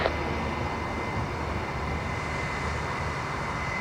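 Airliner engines roar steadily at Lisbon airport during a landing or takeoff, a loud continuous jet rumble with a faint high whine held throughout.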